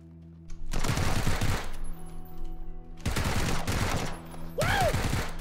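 In PUBG Battlegrounds, a friendly-fire incident sets off loud, close automatic gunfire in three long sustained bursts separated by short pauses.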